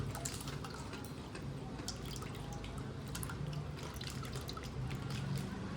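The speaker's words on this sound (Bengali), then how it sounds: "এবার মধ্যে দিয়েছি তেঁতুল গড়ানো জল।" Tamarind water poured into fuchka, a steady trickling and dripping over a dense, even wash of liquid noise, close and continuous for several seconds.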